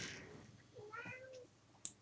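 A house cat gives a single quiet, drawn-out meow in the middle of an indoor scene, with a soft sharp click just after it.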